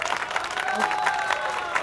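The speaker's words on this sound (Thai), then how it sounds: "ขอเสียงปรบมือให้กับน้องโอ" Audience applause for Nong O after a song in the final of a Thai reality singing competition, a short burst of dense clapping with faint tonal music or voice beneath it.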